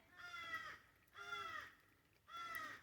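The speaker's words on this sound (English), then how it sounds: "And the crows seem to be really interested in this." Crows give three harsh, drawn-out caws at a steady pace outdoors, moderately distant and fairly faint, with no talking.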